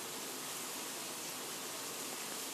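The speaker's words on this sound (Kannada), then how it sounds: "ಫುಲ್ ನೀರು ಒಂದು ಹನಿ ಕೂಡ ನೀರು ಇರಲಾರ್ದಂಗೆ ಇದನ್ನು ಸಾಣಿಗೆನಲ್ಲಿ ಬಸಿತಾ ಇದ್ದೀನಿ" Water draining through a kitchen sieve while cooking potato upma, a steady faint rushing hiss without pause.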